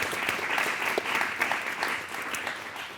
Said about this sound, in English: Let's give one more round of applause for our panelists.